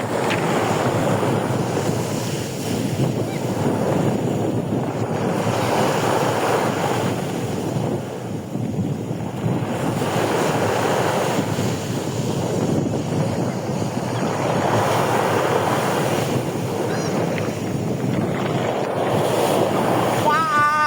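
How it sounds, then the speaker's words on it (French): Large waves crash and surge at Fécamp on the Normandy coast, heavy rolling surf in repeated swells with strong wind buffeting the microphone throughout. "Les vagues elles sont de plus en plus énormes."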